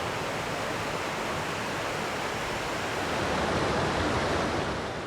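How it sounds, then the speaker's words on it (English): Henry Creek water flowing in Oregon, a broad steady rushing noise like a stream or small falls, even and continuous, swelling slightly toward the end, with no voices. "This is Henry Creek, which is our source of water"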